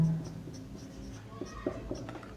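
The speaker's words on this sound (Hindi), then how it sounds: "फिर हम इसको इस तरह लिखते हैं" Pen scratching on paper while working through a Class 10 math exercise on square roots, with soft, irregular strokes and small taps in a quiet room, no voice.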